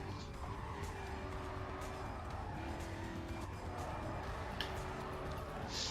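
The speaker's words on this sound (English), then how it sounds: "this is some really bad Corvette driving" A Corvette races and skids in Need for Speed: Carbon, its engine droning steadily under a hiss of tire noise and skidding, fairly constant and moderately loud with no talk.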